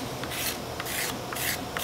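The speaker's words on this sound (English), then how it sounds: "I'm finding the edge that has the burr, and then we're going to scrape along" A steel scraper drawn along the burred edge of a wooden gun stock being prepared for finishing, giving four or five close, even raspy strokes in a steady rhythm.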